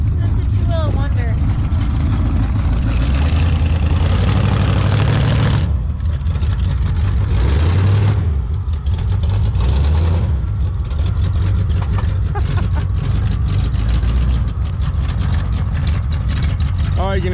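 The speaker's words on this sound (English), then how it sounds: "you can just hear that transmission isn't happy" An abandoned 1979 Chevrolet stuck on flat ground, its engine revving hard and the transmission straining, a loud continuous low drone that rises and falls in surges, with voices talking over it.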